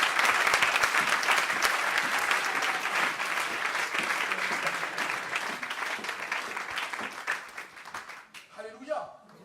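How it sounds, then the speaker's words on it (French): A church congregation applauds and cheers for Jesus during a service, a sustained dense roar of clapping that fades near the end as a voice speaks over it. "Acclame Jésus, s'il te plaît."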